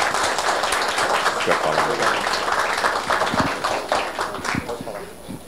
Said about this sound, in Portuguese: eu peço uma salva de palmas para o nosso